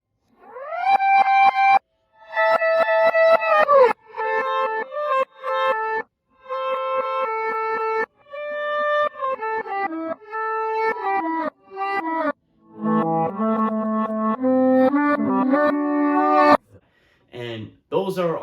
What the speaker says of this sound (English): So I reversed my guitar solo, and I liked the sound of that a lot more.